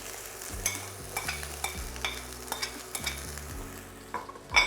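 Vegetables frying in olive oil in a pan for a seafood cheesesteak, a soft, steady sizzle broken by repeated stirring scrapes and clinks, with no talking.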